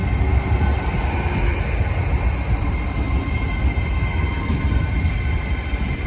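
A train rolls past on the tracks at a railway station near Batley and Dewsbury, producing a loud, steady, close rumble of wheels and carriages that holds through the whole stretch.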